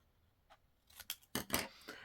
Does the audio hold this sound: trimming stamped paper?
yes